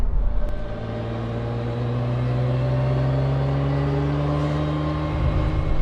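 Naturally aspirated V12 car engine running with a smooth, steady drone and a slight rise in pitch, heard alone without any talking.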